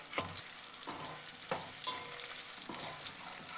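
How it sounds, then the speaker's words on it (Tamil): Dried red chillies sautéing in a pan for garlic chutney, a soft sizzle broken by several spatula scrapes and knocks against the pan at uneven intervals. "சேர்த்துட்டு நல்லா வதக்கி விடுங்க"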